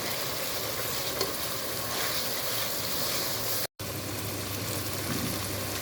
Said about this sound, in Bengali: এখন ভালো করে মশলা কষিয়ে নিচ্ছি